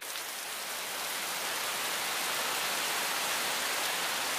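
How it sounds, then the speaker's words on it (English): Rain falling outside at a beach resort in Cancun, a steady, even hiss of drops on surfaces that holds constant and fairly soft from start to finish, with no voices. "It's raining outside, it doesn't look like it's gonna stop anytime soon"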